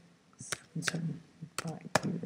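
Calculator keys pressed while entering equation values for a graph, a few sharp clicks at uneven intervals, close and fairly quiet, heard among soft voice sounds.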